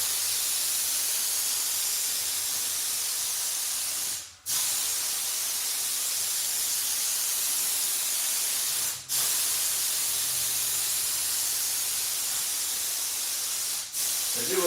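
Continuous broadband spray hiss from coating a sheet, steady and close, cut by three brief pauses where the spray trigger releases; no talk.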